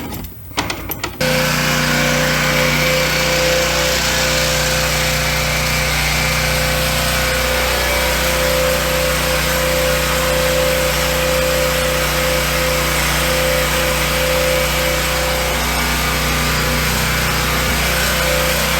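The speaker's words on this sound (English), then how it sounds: "what we just saw was my generator hooked up with the main breaker to my garage turned off inside the house, and the generator was powering everything in my garage" A whole home generator runs while powering a garage, a loud, steady engine drone with a constant tonal hum that holds unchanged after a brief clatter at the start, with no one talking.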